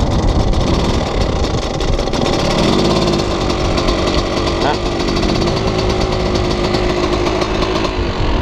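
Engine of a 1997 KTM EXP motorcycle running steadily and loudly throughout, a raspy continuous drone with no clear pauses.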